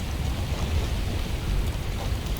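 Hail and heavy rain pour down during a below-zero thunderstorm, a dense, loud, continuous roar of pelting impacts with a deep rumbling undertone and no voices.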